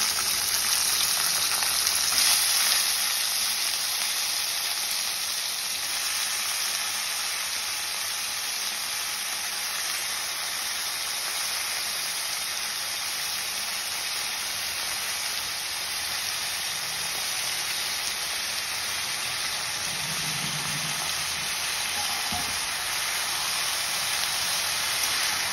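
Cut potatoes frying in a pan, a steady dense sizzle with crackling spatter that holds loud and even throughout, with no talking.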